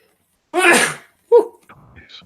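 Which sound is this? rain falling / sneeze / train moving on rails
sneeze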